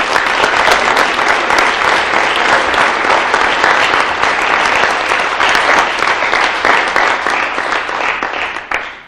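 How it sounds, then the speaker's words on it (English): Sustained, loud audience applause fills the room at a Boston public-safety presentation, dense clapping holding steady before tapering off at the very end. "please give Jackie a round of applause"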